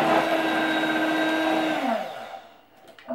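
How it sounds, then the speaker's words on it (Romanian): Electric hand mixer beating chocolate cake batter, a steady whirring motor hum that winds down to a stop near the end, followed by a few faint clinks. "să luăm un mixer cu care vom bate acest aluat pentru 2 minute"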